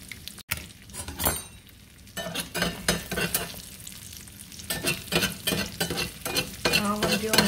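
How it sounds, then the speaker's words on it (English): An egg frying in oil beside a Spam and potato hash, a steady close sizzle with scraping and stirring clinks of a utensil against the pan. "throwing some of that oil up here on top of the egg"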